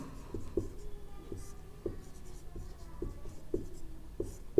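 Chalk or marker writing on a board taps and scratches in short strokes roughly every half second, faint and close in a quiet room.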